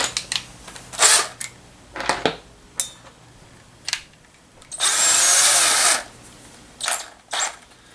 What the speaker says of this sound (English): then we'll start drilling some holes